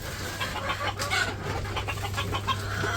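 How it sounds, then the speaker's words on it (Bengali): A hen on a village farm clucks while feeding, giving soft, irregular close-up clucks over a steady low hum, with no talking. "মুরগিটা খাবার দিয়ে নিতেছে।"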